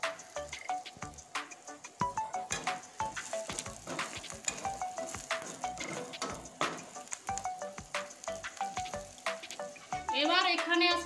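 Turmeric powder hits hot oil with tempering spices and reddened fried garlic for a taro-leaf dish, sizzling and crackling steadily with frequent sharp pops and stirring clatter, swelling into a louder hiss near the end.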